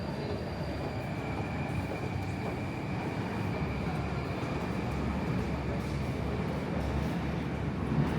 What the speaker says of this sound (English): And this is the subway ring line.